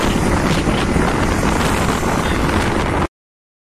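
Steady roaring wind buffets the microphone during a motorbike ride on the road toward Dindigul, loud and constant for about three seconds before cutting to silence, with the engine masked beneath the rush.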